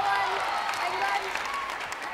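A netball crowd at a South Africa versus England match reacts with a steady wash of cheering and clapping, with a commentator's voice running over it.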